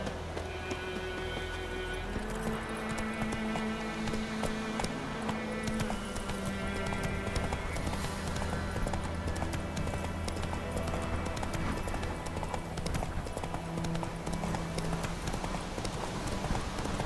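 Roach the horse gallops in The Witcher 3, with quick, steady hoofbeats running the whole stretch beneath a continuous layer of in-game music.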